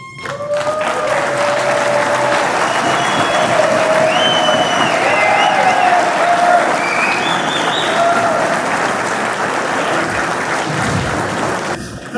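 A crowd at a Republican congressional campaign event gives auto workers sustained loud applause for about twelve seconds, dense clapping with faint scattered cheers and voices underneath.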